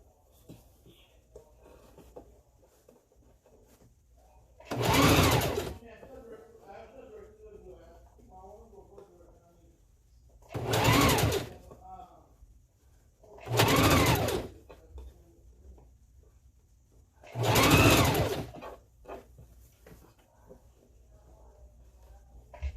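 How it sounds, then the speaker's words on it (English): A sewing machine stitches a hair weft onto a closure wig in four loud, close bursts of rapid whirring, separated by quieter pauses where a person talks softly. "Sew the weft on the line."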